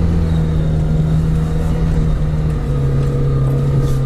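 A Lada Niva engine revs steadily as the car drives off, a loud close droning hum with a sustained low tone that shifts slightly midway, no talking.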